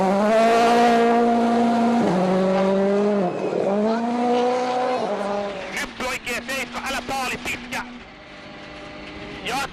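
A WRC rally car, driven by a Finnish driver on a gravel stage at Rally Finland 2011, revs loudly with rising and falling engine notes and a run of rapid staccato bursts, heard under a commentator's voice.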